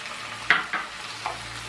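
Tomato pieces drop into a hot frying pan with cashews, adding soft splats over a steady low sizzle; about three brief additions, no talk.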